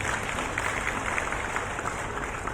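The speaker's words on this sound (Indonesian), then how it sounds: "Teman-teman, tepuk tangan dulu atuh." Audience applause at an education workshop on implementing a new school curriculum, a steady dense patter of many hands clapping that holds evenly throughout without pauses.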